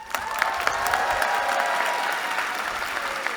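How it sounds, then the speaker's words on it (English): A standing audience at the UC Berkeley Engineering baccalaureate commencement gives award students a full, steady round of applause, dense and continuous with occasional louder claps and a few faint voices. "remain standing for a collective round of applause"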